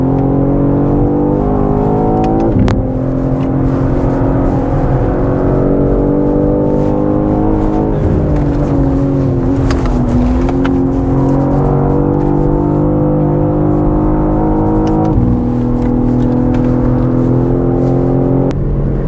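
A 600 hp BMW G81 M3 Touring lapping the Nürburgring, its engine droning loud and steady throughout with shifting pitch under throttle, a few brief gear-change dips, and no talking.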